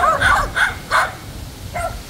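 Several dogs at a house bark in a quick burst of four yaps, then one more bark after a short pause. The barking is close and loud, with nobody talking.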